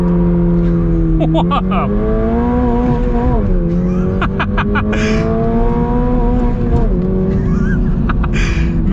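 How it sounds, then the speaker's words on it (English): A manual 2022 Toyota GR86 launches from a standstill on an empty road, its engine loud and close, climbing through revs with a brief dip as it shifts and pulls again, and a voice exclaims once. "let's see if we can get a little launch here."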